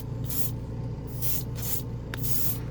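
Airbrush spraying Gaia Prism Blue Black paint in short bursts, three or four hissing sprays of about half a second each, close and steady over a constant low hum from the compressor.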